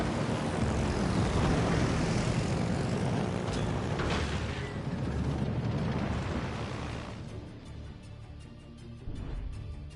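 A bomber aircraft's engine in the naval battle game World of Warships Legends roars loudly and steadily, with a rumbling explosion-like swell midway before the drone eases off.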